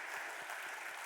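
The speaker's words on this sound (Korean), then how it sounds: "마음 담아서 박수" A church congregation claps together during a Sunday worship service, a steady wash of many hands applauding at moderate distance with no voices over it.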